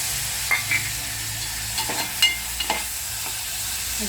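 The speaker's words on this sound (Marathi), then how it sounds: "कांदा पूर्ण भाजून झाला की लगेच थोडंसं भाजलं की त्यामध्ये आपण टोमॅटो ॲड करतो" Tomatoes added to fried onions in a pan for a lentil dal, a steady sizzle under a few soft stirring scrapes and light clinks, close and fairly quiet.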